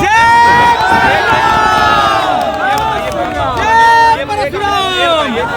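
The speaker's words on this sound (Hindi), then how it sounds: "बहुत भारी भीड़ थी तिकोनिया पार्क में" A large crowd at a Tikonia Park rally, a dense roar of many voices with shouts and cheering rising and falling, loud and close throughout.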